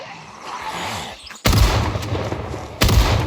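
Shotgun blasts in Project Zomboid in the city of Brandenburg, two loud, sharp booms about a second apart over a low rumbling background.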